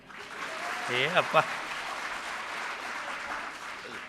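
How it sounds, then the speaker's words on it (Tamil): Audience applause at a Tamil association debate event in Kuwait, a steady crowd clapping that runs throughout, with a voice briefly speaking over it. "ஆமாம், நல்லா ஒரு கைத்தட்டு கொடுங்க"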